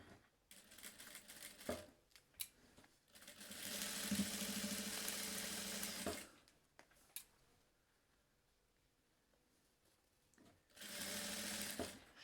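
A sewing machine stitches a bag lining in two bursts of steady motor whir, a long one and a shorter one. Quiet pauses with light handling clicks fall between them.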